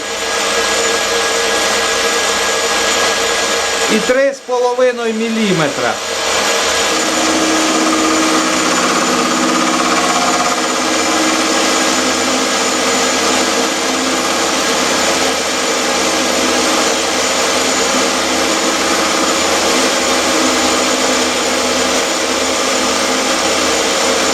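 Lathe spinning up to 1000 rpm while cutting with a Chinese-made cutter, a loud steady machine whine and hum filling the whole span, with a brief pitch-sweeping dip early on as speed changes.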